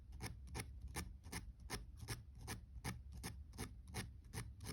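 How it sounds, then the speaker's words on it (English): A hand file strokes across wire metal in rapid one-directional rasps, about fifteen crisp, evenly paced scrapes heard close up and faint against a quiet background. "Just filing in the one direction."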